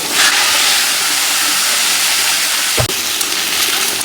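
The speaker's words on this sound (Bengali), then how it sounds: "এই যে কালো জিরা আমি এই তেলে দিয়ে দিব, টমেটো দিয়ে দিচ্ছি, আর এই যে সবজিগুলো দিয়ে দিব।" Black cumin, tomato and mixed vegetables hit hot oil for a fish curry, a loud, steady hiss of frying filling the clip, broken by a sharp knock near the end.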